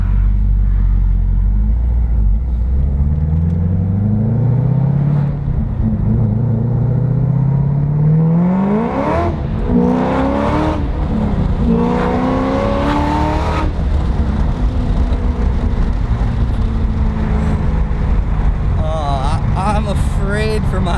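A Chevrolet Camaro ZL1 engine climbs through loud, rising revs while driving, a deep rumble with sweeping pitch as the car accelerates hard close to the microphone.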